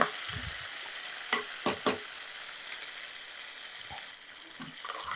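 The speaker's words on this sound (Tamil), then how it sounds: "இதை வந்து லோ ஃப்ளேமில் அப்படியே வதக்கி எடுத்துடலாம்." Cumin sautéing in a pan over a low flame gives a faint, steady sizzle, with a few soft stirring scrapes and clicks.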